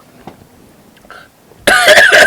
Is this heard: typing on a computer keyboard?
no